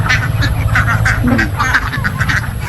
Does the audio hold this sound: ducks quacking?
yes